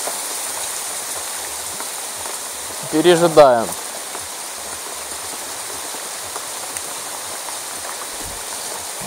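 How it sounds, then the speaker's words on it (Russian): Steady heavy summer rain hisses and patters on surfaces outdoors during a river fishing trip, with a brief spoken word partway through. "Опять залупил такой серьезный дождик."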